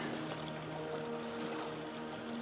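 Water and gravel swirling in a gold pan outdoors in Oregon, a steady close sloshing wash with a constant rushing background and no clear pauses.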